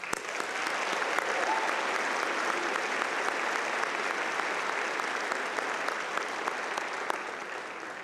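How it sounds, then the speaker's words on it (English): A large audience at a spring commencement ceremony gives sustained, even applause, a dense wash of many hands clapping for the full stretch. "Please join me in a round of applause."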